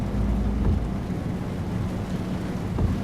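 Steady rain at night in Euro Truck Simulator 2 forms a constant broadband wash over a low rumble of the truck, with no talk.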